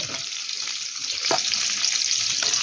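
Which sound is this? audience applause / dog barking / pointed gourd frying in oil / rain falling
pointed gourd frying in oil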